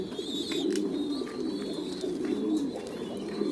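Breeding pairs of pigeons on a pigeon farm coo in a dense, continuous chorus, with some higher chirps and brief clatter over the low rolling murmur, close and steady.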